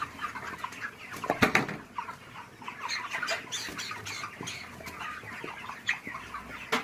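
Poultry chickens in a farm shed cluck and murmur continuously, a busy flock chorus with occasional wing flaps and scuffling, no talk over it.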